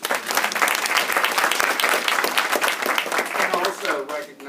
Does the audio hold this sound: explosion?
no